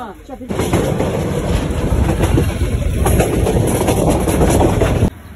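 A passenger train pulls out of a station on a foggy morning, a loud, close rumble of wheels and carriages rolling continuously with rhythmic clatter, starting abruptly and cutting off just as abruptly.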